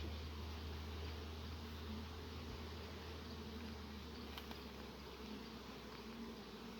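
Honeybees swarm around an open hive during a beekeeper's inspection, a dense, continuous buzzing hum close by, steady in level with no clear talk.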